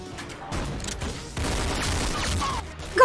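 Gunfire in the Roblox shooter Arsenal, two bursts of rapid in-game shots, loud and close, separated by a short gap, with a brief sharp sound at the end.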